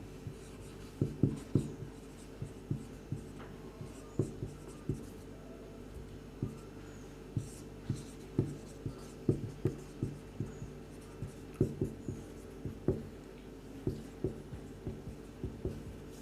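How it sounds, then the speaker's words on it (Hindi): Writing on a board during a lesson, a steady sequence of soft taps and strokes spread over many seconds, close and quiet with no talking. "मैं यहाँ पे थोड़ा सा और लिख देता हूँ"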